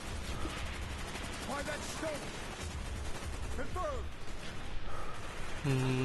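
Rapid gunfire in Black Ops during the S.O.G. mission, bursts of automatic fire and scattered shots at a steady level, with someone talking over the shooting.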